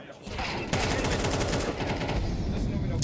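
Rapid gunfire from a Counter-Strike esports match at a major tournament, dense and continuous bursts of shots that swell louder after a brief opening, with crowd or caster noise blended underneath.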